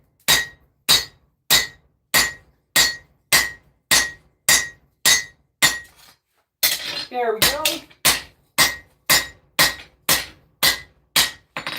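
A blacksmith's hammer strikes a battle axe blade in a steady, evenly spaced rhythm of loud, ringing metal blows. A short pause with a brief spoken remark comes before the strikes continue.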